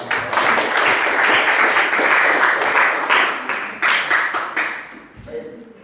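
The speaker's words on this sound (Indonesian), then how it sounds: "Oke, boleh berikan juga tepuk tangan." Classroom applause in a Christian religious education lesson, a burst of many hands clapping loudly and close for about five seconds before thinning into scattered claps and fading, with voices mixed in.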